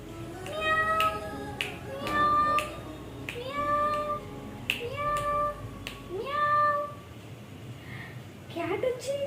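A house cat meows repeatedly in short rising and falling calls across the whole stretch, fairly close, while a person speaks in between and over some of the cries.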